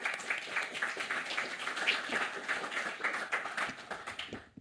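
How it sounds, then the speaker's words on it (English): A modest audience applauds a speaker at a talk on open data standards, with distinct, fairly close claps in a steady patter that fades out at the end. "So please, warm applause to Ed."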